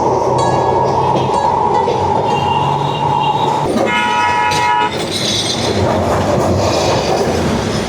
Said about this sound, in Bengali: আমাদের ট্রাম কিন্তু এখন এক্ষুনি ছেড়ে দিল